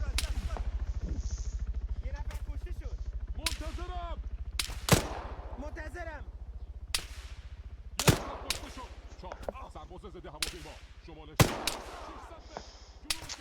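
Sniper gunfire in Arma 3 cracks out in sharp, scattered shots over a constant low engine-like drone, some distant and some close, with a voice talking between them.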